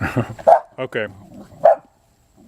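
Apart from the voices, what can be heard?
dog barking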